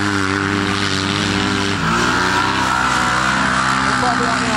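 Race cars at Auburndale Speedway roaring around the oval, a steady loud engine drone with shifting pitch as they come past on a lap, nearby voices over the noise.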